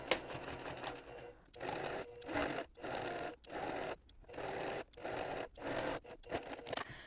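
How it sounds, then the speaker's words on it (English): A sewing machine stitching a quarter-inch seam around a Japanese flower bag, running in steady whirring bursts of about half a second separated by brief stops, close and fairly quiet with no talking. "I'm going to sew 1/4 of an inch all the way around"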